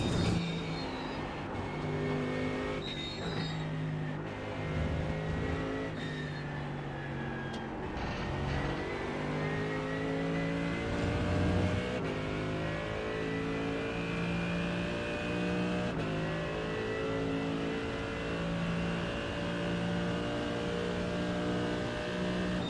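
Race cars approaching on the Silverstone circuit during a night race, engines droning and rising in pitch as they close in, with steady harmonic whine layered over a constant broadband roar.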